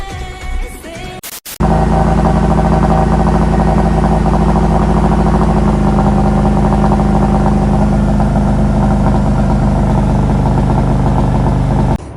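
A 1967 Shelby GT500 Mustang Eleanor engine, still cold, fires up after a brief rattle and runs loud and steady at a close, rumbling idle for about ten seconds.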